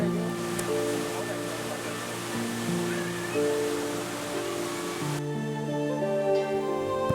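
A waterfall on the Rudranath trek through the Mandal–Anusuya route, a steady broadband rush of falling water that continues without a break.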